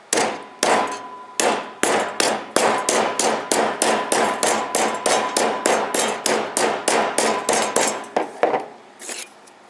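A steady run of sharp metallic clangs, a hammer striking a soup can over and over at a quick, even pace before slowing at the end.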